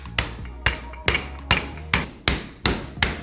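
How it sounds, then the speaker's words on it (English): Wild turkey meat pounded flat with a mallet, eight evenly spaced thuds about every half second, close and solid with short decays between strikes. "And now you're just gonna hit the turkey till it's flat."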